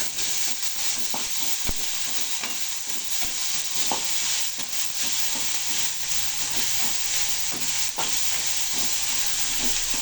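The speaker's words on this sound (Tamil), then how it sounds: "உப்பு போட்டு நல்லா வதக்கிடலாம்." Sautéing with salt for Chettinad fish curry gives a steady, close sizzle and hiss, with scattered spatula clicks and stirring scrapes across the whole stretch and no talking.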